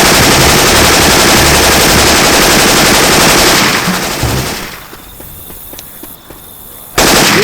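Syphon Filter weapon effects play in Left 4 Dead 2: loud, dense automatic gunfire rattles continuously for about four seconds. It fades into sparse clicks and quieter background, then a sharp burst returns at the end.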